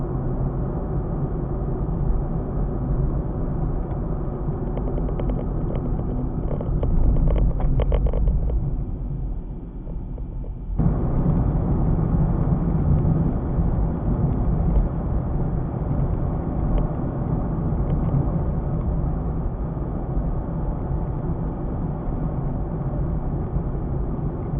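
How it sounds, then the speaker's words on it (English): A car engine drones steadily on the road in a dash cam recording, a continuous low rumble with road noise, briefly dipping before resuming at the same level throughout. "you'll hear mostly just the sounds of the engine"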